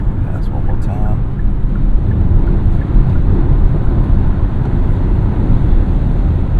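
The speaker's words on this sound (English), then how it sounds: "wind noise right now, probably because I'm making the wind pass by extra fast" Wind rushing past the cabin of a 2023 Kia EV6 Wind AWD while driving fast, a loud steady low roar with road rumble throughout.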